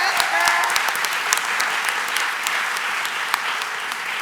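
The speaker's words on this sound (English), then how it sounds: "So give me a clap." An audience claps after a post-show talk for a theatre production, with dense, steady applause filling the whole span, fairly close and loud, with a few sharper individual claps standing out.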